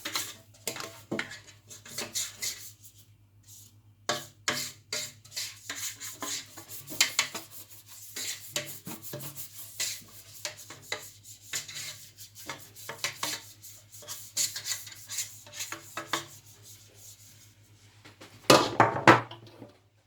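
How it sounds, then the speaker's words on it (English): A hand rubs oil around a sponge cake pan, making repeated close scraping and rubbing strokes in uneven bursts, with a louder scrape near the end and no talking. "So rub it to touch everywhere in your pan, every part of it."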